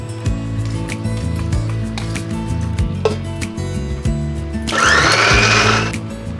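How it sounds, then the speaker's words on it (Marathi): A mixer grinder grinding a masala paste after cashew paste whirs and hums, its pitch shifting as it runs, then surges into a louder, harsher grinding burst near the end. "काजूची पेस्ट झालेली आहे आता मी वाटण करून घेते"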